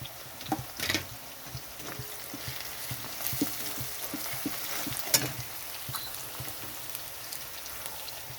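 Spices sizzle and crackle in a pan with fried onion, salt and chili powder for chicken malai curry, a steady frying hiss with scattered pops and a few stirring knocks.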